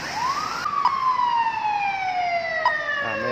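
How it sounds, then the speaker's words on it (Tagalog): An ambulance siren at a pedestrian crossing in Auckland sweeps upward, then holds a long, slowly falling wail, loud and steady with traffic rumble underneath. "may ambulansya dumaan"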